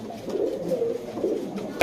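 A pair of chocolate Dom pigeons coo in a low, rolling, continuous murmur, near and moderately loud, with no talking.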